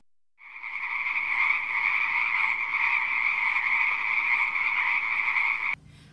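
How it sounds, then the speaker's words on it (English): A frog croaks in one loud, continuous, buzzy call lasting about five seconds, heard alone and cut off abruptly at the end. "I saw a frog on the way, and this is what he said."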